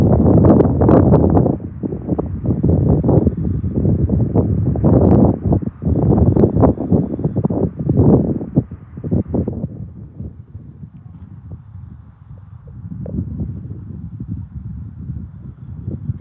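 Gusty outdoor wind buffets the microphone in loud, low, rumbling bursts for about ten seconds, then eases into a softer, steadier rush.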